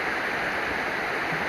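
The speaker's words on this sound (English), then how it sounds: "It's just like a little creek." A small creek on the Taum Sauk section of the Ozark Trail flows with a steady, even rush of water, close by and continuous, with no voices.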